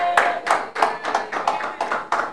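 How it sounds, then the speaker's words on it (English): Scattered clapping from a small audience after a sister's song at an evening gathering, about eight distinct claps in a slightly uneven rhythm, moderately loud and fairly close, with no one talking over it. "can we give her a round of applause?"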